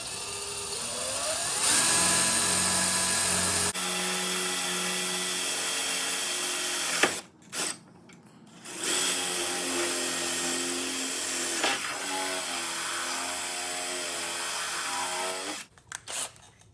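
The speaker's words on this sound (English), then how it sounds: "I recommend starting our holes with a smaller drill bit" A power drill whirs loudly and continuously, changing pitch as it bites into material while drilling holes for motorcycle crash sliders, with short pauses and restarts between runs.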